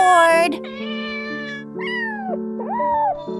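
A cat meows repeatedly, with several drawn-out, rising and falling cries in quick succession, loud and close, with no talking over them.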